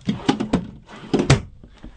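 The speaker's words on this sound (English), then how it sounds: "Plus, look at this. Drawers. Full drawer extension glides" A solid wood drawer on full-extension glides in a 2013 Unity twin-bed layout slides out and back in two rumbling passes, each ending in a close wooden thunk.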